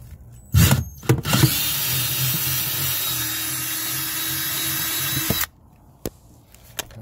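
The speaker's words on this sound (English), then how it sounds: "I'm about to drill a bigger hole." Power drill boring a larger hole through a plastic cooler-type storage box on a pickup truck, a short burst and then a steady, loud five-second whine that cuts off sharply, followed by a couple of faint clicks.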